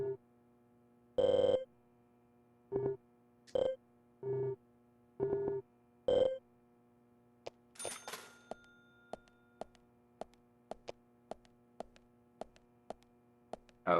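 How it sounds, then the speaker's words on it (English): Telephone ringing in the video game Deadly Premonition: a series of electronic ring bursts, evenly spaced at first, then a scatter of short clicks and ticks, heard alone and fairly close. "Okay, that's a phone."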